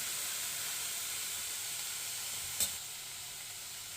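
Vegetables for kodo millet noodles sauté in a hot pan, giving a steady, bright sizzling hiss that holds evenly throughout, broken by one brief sharp clink near the end.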